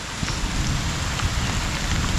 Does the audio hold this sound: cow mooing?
no